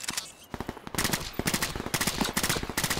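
Rapid automatic gunfire in the video game Off the Grid, dense bursts of loud shots in quick succession after a brief lull, close and continuous.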